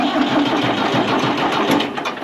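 An old tractor engine, left out in the rain all summer, runs loud and close, a steady chugging rumble that holds without pause.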